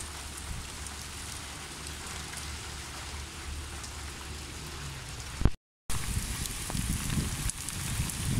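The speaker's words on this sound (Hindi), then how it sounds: "बारिश अभी थोड़ी हल्की हल्की हो रही है" Continuous rain patters and hisses evenly, with a momentary dropout before the steady wash of falling rain resumes.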